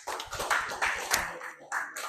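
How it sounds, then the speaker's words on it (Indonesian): Students in a ninth-grade classroom clap for a group after its presentation, a short burst of uneven, close handclaps with voices mixed in, fading out briefly before one last flurry. "Oke, kasih tepuk tangan untuk kelompok 4 ya."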